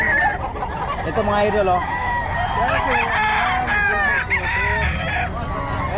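Several roosters crow loudly and repeatedly while hens cluck all around them in a dense, close farmyard chorus. Someone speaks briefly over the birds.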